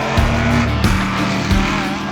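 The Spice SE92 GTP Group C race car roars close by at high revs, its engine note rising and dropping sharply with quick throttle blips and gear changes during a short burst of driving.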